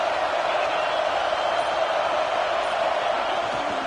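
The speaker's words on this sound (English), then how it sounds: "This crowd bringing the energy and noise early." Stadium crowd at a Clemson football game roars in a steady, dense wash of cheering noise, distant and sustained without breaks.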